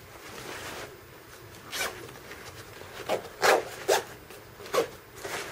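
A zipper on a small inner pouch of a Hydrapak Big Sur pack, pulled in several short quick rasping strokes, close and fairly quiet, with no talking.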